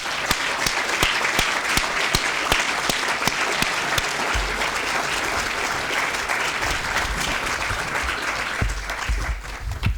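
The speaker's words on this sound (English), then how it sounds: "A round of applause, please." Sustained applause from a sizeable crowd at a university student awards ceremony, dense and steady clapping that continues throughout and begins to thin near the end.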